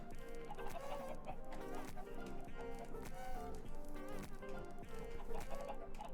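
Chickens clucking in Minecraft, a steady dense stream of overlapping clucks and squawks, close and continuous, with no talking over it.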